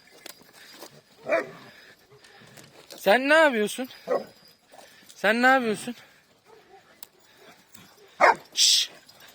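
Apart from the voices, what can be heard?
shepherd dogs barking and whimpering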